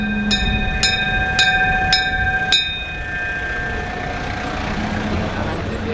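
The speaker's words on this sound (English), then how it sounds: "Here comes the train." A train approaches in a city with five ringing bell-like strikes at an even pace, then a steady, moderately loud rolling rumble that carries on alone.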